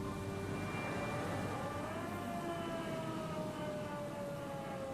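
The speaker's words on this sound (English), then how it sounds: "She's cranking the thing that would make the police megaphone like a siren noise." A police megaphone cranked to wail like a siren in the video game Disco Elysium, a steady rising and falling tone that stays loud and continuous throughout, with no voices over it.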